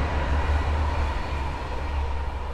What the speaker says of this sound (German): Ob ein Zug kommt oder nicht, ganz egal.